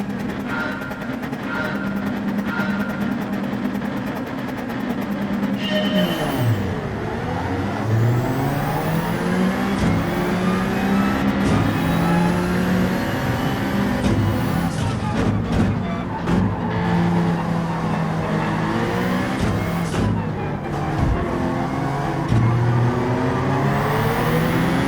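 Gran Turismo 7 race car engines roaring together in a grid start at Lago Maggiore, loud rising revs and pitch sweeps from several cars as they accelerate away, with gear changes and no talk.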